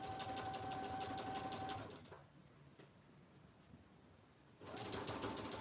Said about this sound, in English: I'm just back stitching here where my seam is, where I sew those two pieces